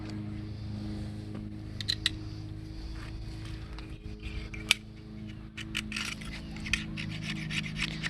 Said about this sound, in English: So now you're scraping off the gaskets.